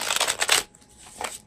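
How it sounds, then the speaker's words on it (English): Animal Wise Tarot cards by Ted Andrews being shuffled by hand, a quick run of crisp riffling flutters, then a brief pause and one more softer burst, close and clear. "So I'm shuffling a supportive card here."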